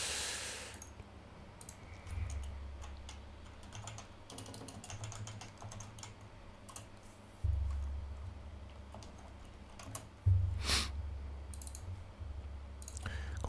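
Clicking keystrokes on a computer keyboard as Ctrl+6 is pressed, a few sharp taps spread over a quiet stretch with a low steady hum beneath.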